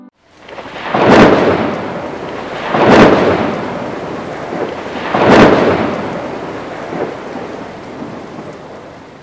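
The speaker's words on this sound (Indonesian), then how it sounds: "Petir menyambar dengan cukup intens." Three heavy thunder cracks roll out one after another, each swelling into a long rumble over steady rain.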